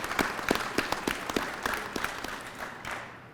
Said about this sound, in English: it deserves a second round of applause